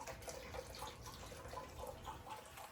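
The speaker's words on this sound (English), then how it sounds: "I'm about to turn the sprinkler on so you can see how this gets watered somewhat." A garden sprinkler watering plants in a zone 9a backyard garden, a soft steady hiss and patter of spraying water, faint and continuous throughout.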